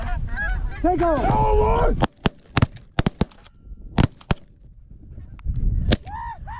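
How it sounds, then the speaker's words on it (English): Canada geese honk loudly and repeatedly during a goose hunt in snow, their calls overlapping at first, then broken by a rapid string of sharp gunshots, with more honking near the end and a shout over it. "More geese coming!"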